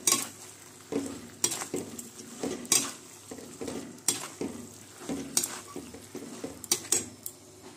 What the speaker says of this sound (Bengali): এবার এটা ভালো করে নেড়ে নিচ্ছি।